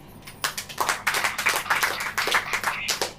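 A church congregation claps together in a quick, uneven patter of handclaps that starts after a brief pause and continues steadily to the end at moderate loudness.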